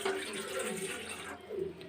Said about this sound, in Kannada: ಇಲ್ಲಿ ನಾನು 1 ಲೋಟ ನೀರು ಹಾಕೋತಾ ಇದ್ದೀನಿ.